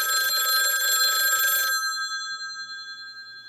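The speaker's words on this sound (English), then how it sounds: "dreaming of watching cartoons with Ellie, the phone rang." An old-style telephone bell rings loudly with a steady metallic trill that stops abruptly partway through, its tone lingering and fading into quiet afterward.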